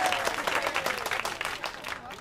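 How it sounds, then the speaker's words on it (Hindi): A crowd claps in a Hindi-dubbed South Indian action film scene, a brisk rapid patter of applause at moderate distance with faint voices beneath. "धीरू भाई बांटेंगे गर्मा गर्म बिरयानी। तालियां।"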